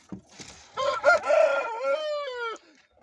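A single Indian game (Aseel) rooster crows nearby, one long loud cock-a-doodle-doo ending in a drawn-out note.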